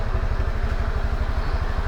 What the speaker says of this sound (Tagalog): Papainit tayo ng motor.